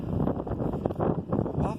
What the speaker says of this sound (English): Wow, it is windy. Really windy.